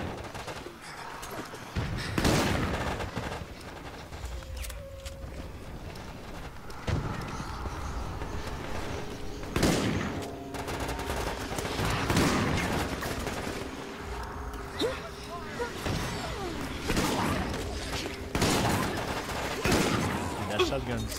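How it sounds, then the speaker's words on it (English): Gunfire in Resident Evil: Operation Raccoon City comes as repeated sharp shots and bursts with loud impacts at irregular intervals, mixed with game effects throughout. "Where the hell are you shooting me from?"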